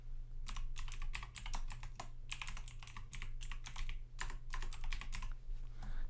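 Fingers type an email address on a computer keyboard in a quiet room, making quick clusters of crisp key clicks with brief pauses over a low steady hum.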